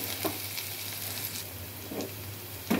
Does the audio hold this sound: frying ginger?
yes